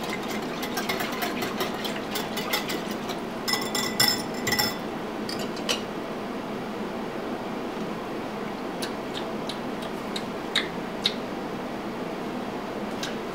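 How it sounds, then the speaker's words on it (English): Sauce being whisked in a bowl for cross-cut baby back ribs, heard as rapid light metallic clicking and clinking in short bursts over a steady hum, with scattered faint taps afterward. "Just whisk."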